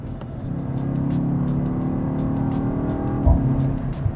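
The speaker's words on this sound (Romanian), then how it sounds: "Ea accelerează repede fără îndoială." A BMW X2 M35i xDrive accelerates on a test drive with a steady, low engine drone heard from inside the car. It rises slightly and ends with a brief thump.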